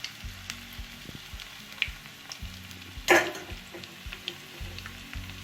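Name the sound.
chicken pakodi pieces frying in oil on medium flame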